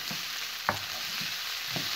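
Steady frying sizzle of mince in a pan, a continuous hiss with a few soft clinks and scrapes of stirring.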